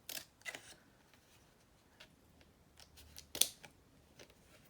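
Scissors snip through a paper sheet in a few short, quiet cuts while corners are trimmed out for a scrapbook album page, with soft pauses between the snips.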